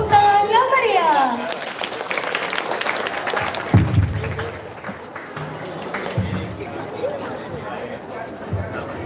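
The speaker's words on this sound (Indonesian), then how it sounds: "Tepuk tangan yang meriah." A crowd at a Dies Natalis celebration with hadroh music and a choir breaks into sustained applause mixed with chatter and voices, loud and dense throughout.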